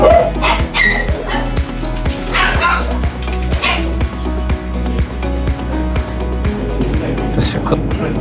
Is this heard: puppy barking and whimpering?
yes